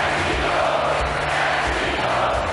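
Volleyball supporters shouting and roaring inside an arena during a championship final against Italy, a dense, continuous crowd din that stays loud and steady throughout with no single voice standing out.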